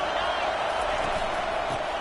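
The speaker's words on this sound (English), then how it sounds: "It is getting loud as this crowd tries to help its defense." A football stadium crowd roars loud and sustained to rattle the offense while its defense is on the field, a continuous wall of noise with a commentator talking over it.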